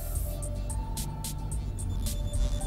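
Low, steady engine hum inside a manual car as it pulls away in first gear, heard from the cabin with a few faint clicks over a smooth drone, no sharp revving.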